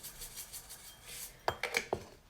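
Black and white sesame seeds are stirred together in a bowl, giving a short run of light clinks and scrapes, about four quick taps close by against a soft background.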